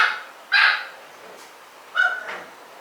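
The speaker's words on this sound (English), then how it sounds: "My dogs are going crazy." Dogs barking indoors in a home during cleaning: two fairly close, loud bursts of barking, the first around half a second in and the second about a second and a half later, with quieter room tone between and no talk.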